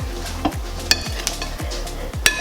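Vegetable fried rice being mixed in a sizzling pan, a steady fry hiss broken by regular scraping strokes of a spoon and occasional light metallic clinks, close up.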